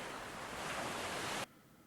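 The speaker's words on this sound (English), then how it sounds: "As you can hear, the sound of the sea" Steady broadband wash of sea waves from the Escape Game Fort Boyard 2022 on Nintendo Switch, an even, fairly quiet roar that holds for over a second then cuts off abruptly.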